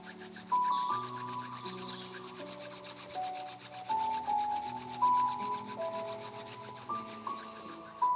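Palms rubbed together quickly during a yoga exercise, a steady close dry swishing friction that continues throughout with soft music playing beneath it.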